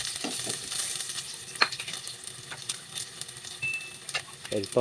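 Garlic and onion sautéing in oil in a pan, a soft, steady sizzle with occasional spoon scrapes and clinks, close, with brief speech.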